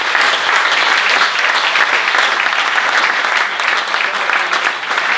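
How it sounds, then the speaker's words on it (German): Sustained applause from a crowd at a groundbreaking ceremony, steady clapping throughout with no pauses, fairly loud and close. "natürlich auch einen warmen Applaus für ein tolles Projekt"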